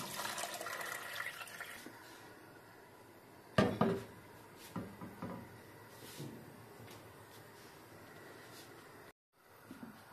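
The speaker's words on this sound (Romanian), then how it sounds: "Facem două clătiri de astea, iarăși apă, iarăși foc" Water runs steadily while smoked bones are rinsed in a kitchen, a continuous splashing hiss with a loud clatter of a pot or bones partway through and a few smaller knocks before the flow briefly cuts out.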